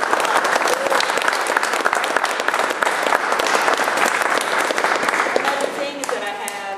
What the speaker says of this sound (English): big round of applause to the group